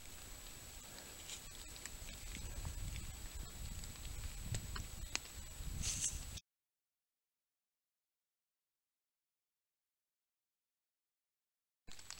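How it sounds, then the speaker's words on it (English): Rain falls on a wooded creek trail at Hobbs State Park, a steady soft patter and hiss for about six seconds that then cuts to silence, with a brief return at the very end. "I don't know if you can hear it or not, but it's raining again."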